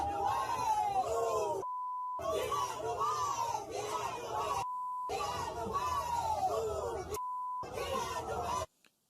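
Loud, repeated steady censor beeps cut over a crowd chanting and yelling on a boat during a riverfront fight, the shouting broken by gaps of near-silence and several sustained bleeps.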